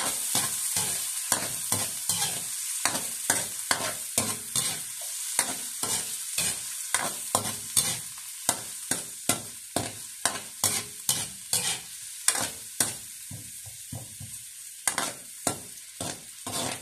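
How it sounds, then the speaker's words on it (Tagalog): Onion and tomato sautéing in hot oil in a home kitchen while cooking a Filipino chicken tamarind soup with pechay, a continuous sizzle punctuated by a rapid, regular series of spatula scrapes and taps against the pan, close and clear, no voices. "Lagay na rin po natin ang sibuyas, kamatis."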